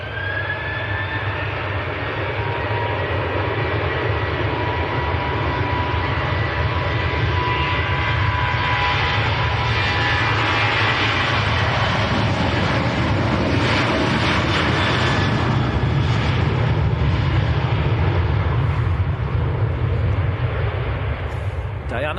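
A Ryanair jet at Manchester Airport, a loud, sustained engine roar with a high whine that fills the whole stretch and builds slightly in the middle. Voices may be mixed faintly underneath.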